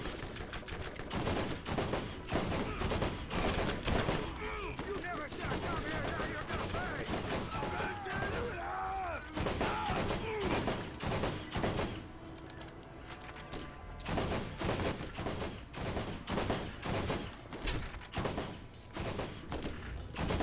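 Shotgun blasts and rapid automatic gunfire in the video game Borderlands, dense repeated bursts running throughout at steady loudness, with game sound effects and a brief quieter lull partway through.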